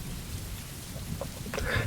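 Steady driving rain hisses throughout under a low rumble of thunder, with a few brighter splashes and a swelling gust near the end; no one speaks.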